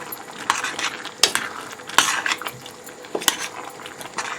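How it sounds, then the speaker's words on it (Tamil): A spoon stirs tomato puree into a chickpea curry in a pot, with scattered scraping and clinking strokes and a soft background sizzle. "மிக்ஸ் பண்ணுறோம்."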